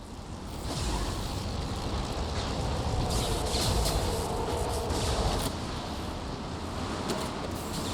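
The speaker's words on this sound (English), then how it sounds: "Navigating this storm is brutal." Storm wind blusters steadily across the hull of a ship in the video game Mass Effect 2, a broad, dense roar that swells slightly midway and carries on without speech.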